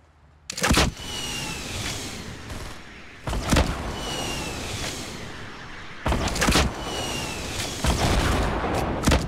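Rocket blasts and gunfire in the battle royale game Fortnite: three loud, sharp explosive bursts spaced a few seconds apart, each followed by a sustained rumbling roar of nearby combat.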